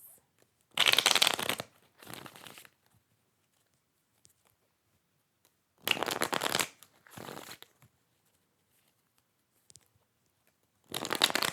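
Three bursts of tarot cards being shuffled, each a quick riffle followed by a shorter one, with quiet pauses between and no talking.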